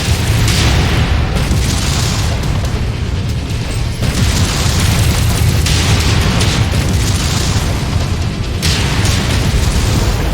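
A missile explosion in the MechWarrior 5: Mercenaries video game, a loud, continuous roaring boom with layered blasts and rumbling debris that fills the whole stretch without a break.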